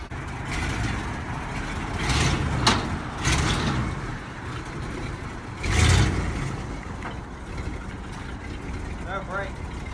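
A 1967 Ford F100 pickup truck engine, abandoned for 20 years and now with a bad fuel leak, runs and idles steadily at close range, with a couple of louder swells and people talking over it.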